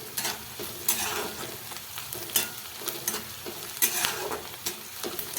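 Peanuts and onion frying in a pan for poha give a steady, soft sizzle, with a spoon stirring and scraping in irregular bursts and light metallic clinks throughout.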